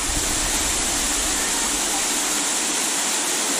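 A hidden waterfall near Matelot pours in a steady, loud, broadband rush close at hand, constant and unbroken, with no voices over it.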